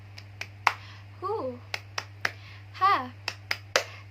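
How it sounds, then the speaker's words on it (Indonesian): Rhythmic group clapping chant led by a teacher in a classroom, sharp claps in a steady pattern with children's voices chanting between the beats, close and moderately loud. "kita tepuk semangat dulu yuk"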